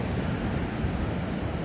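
Ocean surf rolling in along a beach where surfers wait for a big wave, a steady, dense wash of broadband wave noise with some wind rumble, continuous and fairly loud with no voices.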